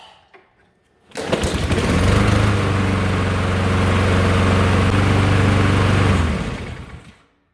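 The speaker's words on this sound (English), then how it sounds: "I'm just going to make sure that the mower is running before putting it away for storage" A gas lawn mower engine starts up indoors and runs steadily at a loud, constant drone for about five seconds before cutting off and winding down.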